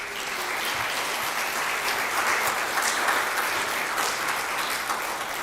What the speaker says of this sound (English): Give Jenny a round of applause and her team